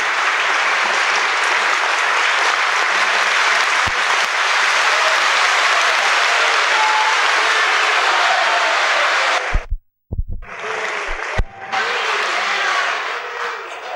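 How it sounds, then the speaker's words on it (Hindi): A large audience at a spiritual discourse claps in a dense, loud, sustained burst of applause that cuts off abruptly near the end, then resumes briefly before fading. "बजाओ ताली देखते क्या"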